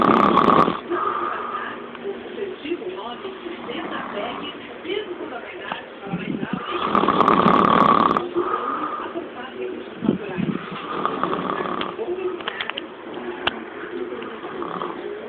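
A man snores loudly in long, rasping cycles, about five deep rattling breaths in a slow, regular rhythm, heard close up through a narrow, phone-like recording.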